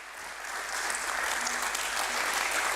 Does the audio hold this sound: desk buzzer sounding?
no